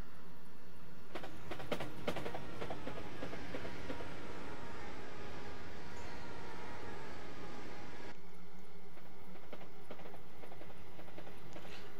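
A passenger train in Train Simulator 2014 on the London to Brighton line rumbles past as a steady, broad rolling roar with rhythmic rail clicks, continuous and fairly loud throughout, with no voices.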